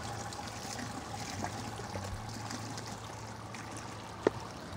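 Sparge water steadily trickling and draining through a homebrew grain mash in a Brewzilla Gen 4 all-in-one brewing system, a continuous low watery flow with a brief sharp clink near the end.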